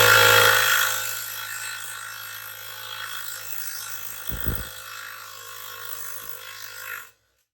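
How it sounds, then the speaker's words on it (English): Half-inch impact wrench set to remove, working on a Honda Goldwing front wheel part: a loud burst at the start, then a sustained mechanical whir that cuts off abruptly. "Now we take the trusty 1/2-inch impact. Set it on remove."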